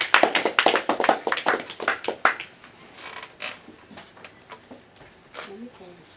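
Audience clapping for an award winner at a radio quiz ceremony, a quick flurry of hand claps up front that thins into scattered claps while voices talk underneath.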